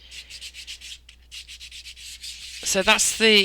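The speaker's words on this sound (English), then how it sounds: "320 grit, that's the lower grit, and that's getting all the rough edges off and giving the surface a good old sand." Sandpaper of 320 grit rubs back and forth over a polymer clay pendant in a quick series of short, even strokes, close and crisp, and a person starts talking near the end.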